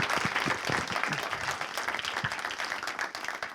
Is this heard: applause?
yes